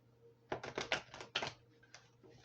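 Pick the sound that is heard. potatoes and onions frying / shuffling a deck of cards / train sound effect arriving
shuffling a deck of cards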